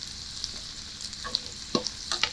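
Onion sizzles gently as it browns in a pan for Southern-style fried cabbage, with a low frying hiss beneath a few sharp clicks and scrapes from stirring near the end, and nobody speaking.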